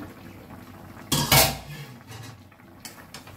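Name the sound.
opening the lid of a cooking pot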